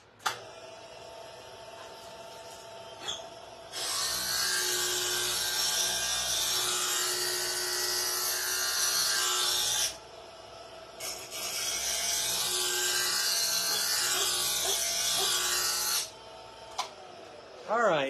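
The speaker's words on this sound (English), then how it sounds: "let me grind that real fast" Strongline reinforcement lead came is ground with a power grinder in two long, loud, harsh bursts of several seconds each, with quieter pauses and brief knocks between them.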